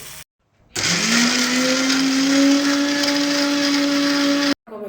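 A kitchen mixer grinder blends fried tomatoes into a smooth paste, its loud, steady motor whir running for about four seconds after a short pause and then cutting off abruptly. No one talks.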